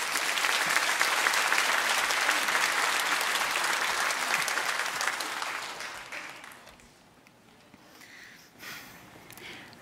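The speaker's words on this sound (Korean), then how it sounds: "큰 박수로 그렇게 맞이해 주시면" Loud, full applause from a church congregation during a Sunday worship service, sustained for several seconds before fading out into quieter room sound, with a few scattered claps at the end.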